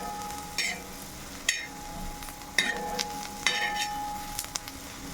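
Onion chutney frying on a tawa with chilli powder, salt and turmeric, a soft steady sizzle broken by several sharp scraping stirs of a spatula against the pan, close by and with no talking.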